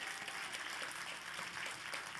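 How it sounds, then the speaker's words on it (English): Applause from a school district event audience for students' parents, a steady, fairly faint wash of clapping throughout with no talk. "Let's give their parents a round of applause for them."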